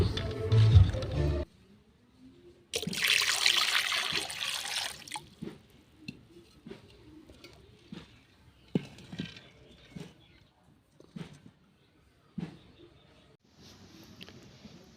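Water splashes and runs while duck eggs are washed by hand, with a loud rush of pouring at the start, then scattered drips, light splashes and handling knocks, close up and without talk.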